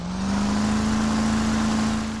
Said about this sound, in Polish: Okazuje się jednak, że trzeba włączyć silnik.